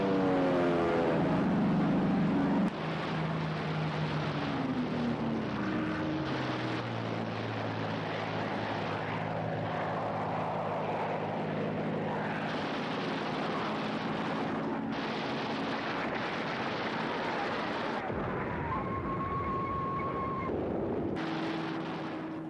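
WWII propeller aircraft attacking near a canal, with engine drones sliding down in pitch, rumbling blasts and a sustained roar of battle that runs on after an abrupt opening burst.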